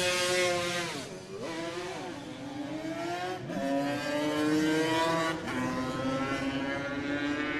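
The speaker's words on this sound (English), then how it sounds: "as he rides his 350cc TZ Yamaha" A 350cc Yamaha TZ racing motorcycle on a parade lap of the Manx Grand Prix mountain course, its engine screaming loudly and steadily with rising pitch sweeps as it accelerates through the gears, with no voices.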